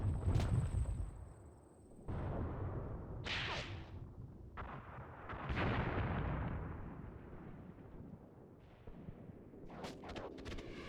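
Artillery guns, including 88mm guns, fire in the war game Mius Front: several heavy booming blasts with rolling rumbles between them, a couple of sharper cracks, and a dense spray of reports near the end.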